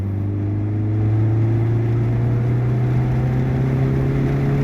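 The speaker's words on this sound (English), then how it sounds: "gonna floor it to 80, and then I'm gonna get my foot off the gas and let it come back down to 50" A 2002 Saturn SC2 rebuilt engine is floored from 50 toward 80 during ring break-in, a loud, close drone whose pitch climbs smoothly and steadily as the car accelerates, with no voices.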